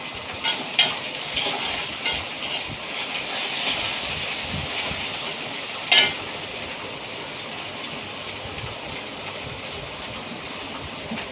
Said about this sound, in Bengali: ঢ্যাঁড়সটা ভাজা হয়ে গেছে